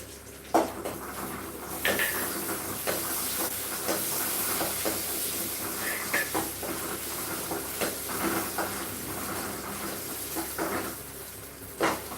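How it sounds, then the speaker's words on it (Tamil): Almonds and cashews roasting in a pan for a wheat flakes and carrot payasam give a continuous close hiss, broken by frequent soft stirring scrapes and clicks, with no voices. "பாதாம் முந்திரி அதை கொஞ்சம் வறுக்கலாம்"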